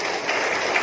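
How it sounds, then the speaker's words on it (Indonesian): An audience bursts into applause for the Pasek family at a gathering on the challenges facing Hindu pinandita priests: a short, dense wash of many hands clapping at once, steady and fairly loud, with no voices over it. "Tepuk tangan untuk keluarga Pasek dulu."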